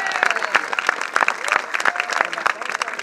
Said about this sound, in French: ça mérite un tonnerre d'applaudissements